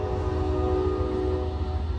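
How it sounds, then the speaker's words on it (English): A slow-moving train rolls past, a steady low rumble with sustained tonal hum filling the whole stretch, close and continuous with no talk. "Oh, another train."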